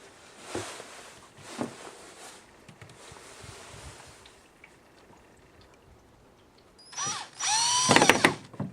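A power drill bores into the body of a 2015 Scion xB, with a few short faint bursts followed by a loud whining run and a louder grinding push through the panel near the end.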